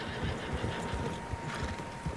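Several horses on a trail in Red Dead Redemption 2, hooves clip-clopping in an uneven rhythm with a whinny, fairly close over faint ambient hum.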